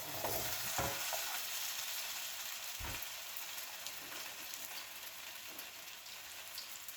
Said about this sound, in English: It might be loud because it will be a sizzle.